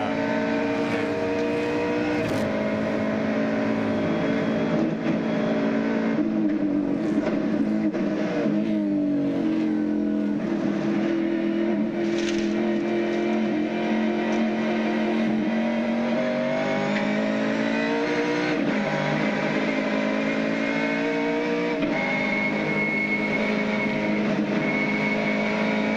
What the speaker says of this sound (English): Let's have a listen to the Shell car.